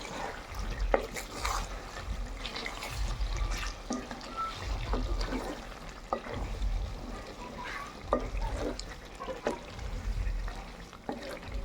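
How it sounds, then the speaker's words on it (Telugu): Chicken coated in masala is stirred in a pan, with a gentle sizzle under repeated scraping and stirring strokes and a bit of liquid trickle, close up and without talk. "మొత్తం కలిసేలాగా కలిపేస్తున్నా."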